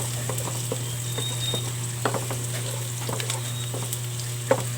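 Minced onion sautés in a pan for ginisang monggo, with a steady soft sizzle, a low constant hum, and scattered light scrapes and taps of the stirring utensil, close and without voices.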